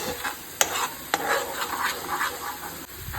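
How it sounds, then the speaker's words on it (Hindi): A spoon scrapes and stirs salt into chicken cafreal masala in a hot pan, with a steady sizzle underneath and a couple of sharp clinks against the metal. "थोड़ा सा नमक इसमें और इसे करेंगे मिक्स।"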